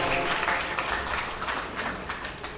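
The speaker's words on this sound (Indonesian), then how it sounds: "Sekali lagi boleh kita beri tepuk tangan yang meriah untuk Ketua Panitia Esther Halawa." A crowd at a school farewell ceremony claps in a broad, continuous round of applause that gradually fades slightly, with faint voices underneath.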